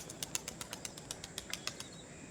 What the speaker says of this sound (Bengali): ছাড়তেই উড়ে যাচ্ছে পায়রা